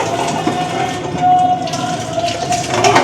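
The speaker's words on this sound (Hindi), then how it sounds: "इसमें जाएगा थोड़ा सा पानी" Water is poured into a pot of qorma curry, giving a steady splashing, rushing pour that runs for a few seconds, fairly loud and close.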